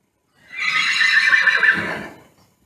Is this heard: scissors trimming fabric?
no